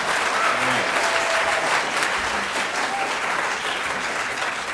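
A concert audience at a barbershop quartet performance breaks into sustained, dense applause, steady and moderately loud throughout with faint voices mixed in.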